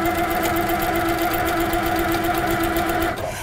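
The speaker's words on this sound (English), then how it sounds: "I have to stop the machine, reposition my hand, and then keep quilting." A sit-down quilting machine runs at steady speed, a loud continuous mechanical whir with a fast needle rhythm that stops abruptly at the end, close up, with no talking.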